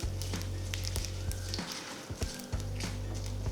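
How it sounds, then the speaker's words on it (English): Chana dal with cumin and mustard seeds frying in hot oil for a rava idli tempering, a faint crackling sizzle over a low steady hum, with brief light pops scattered throughout. "Add 1 teaspoon of Chana Dal, just lightly roast it"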